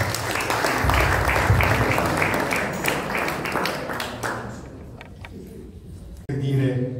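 Audience applause at a book presentation in a villa, a dense patter of clapping that gradually thins out and fades, with a voice speaking over it at the end.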